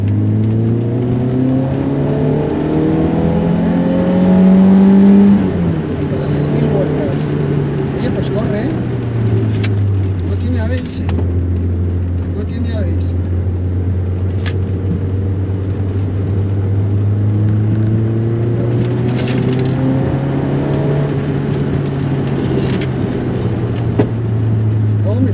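A Peugeot 205 GTi driven on the road, its engine droning loudly up front with the pitch rising under acceleration, dipping through gear changes and climbing again, while someone talks over it.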